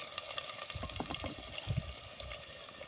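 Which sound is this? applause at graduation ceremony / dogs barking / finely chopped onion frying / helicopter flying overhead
finely chopped onion frying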